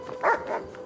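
A single short dog bark in Grand Theft Auto V, close and clear, with a faint softer yip after it.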